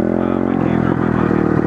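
A pit bike motorcycle engine runs steadily up close, a loud buzzing drone with a dense harmonic whine and small rattles, holding an even pitch throughout.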